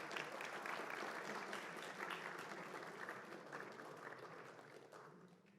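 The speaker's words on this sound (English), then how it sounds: "An MIT team, so give them a round of applause." A tournament audience applauds a finalist team from MIT, sustained clapping that sounds distant and quiet, slowly thinning toward the end.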